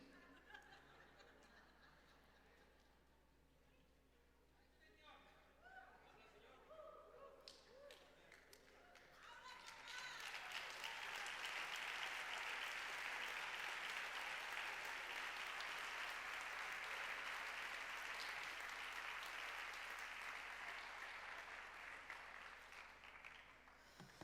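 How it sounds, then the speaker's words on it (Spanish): Church congregation breaks into applause, beginning with scattered chuckles and laughter plus a few claps, then swelling into sustained, dense clapping from many people that holds for over ten seconds. "No sé por qué aplauden."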